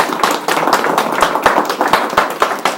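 A small group at a Korean woodworking meetup about hand planes claps, a close, lively patter of individual hand claps with a rough, irregular rhythm that keeps going throughout.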